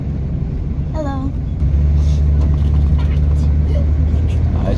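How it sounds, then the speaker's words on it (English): A 1992 Ford Four Winds RV pulls away and drives around the block, its engine a steady low rumble that steps up louder partway through, with a brief whistle-like tone early on and no talking. "We're gonna drive it around the block twice."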